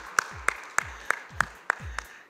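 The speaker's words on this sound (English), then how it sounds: "could we have a huge round of applause?" About seven sharp, evenly spaced claps ring out in quick succession, fairly faint and close, as an audience applauds a CEO at a business panel.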